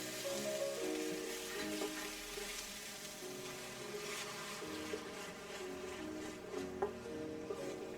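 Garlic, ginger, red chili paste and purée fry in a pan with a soft steady sizzle, heard quietly under a background of music, with no talking.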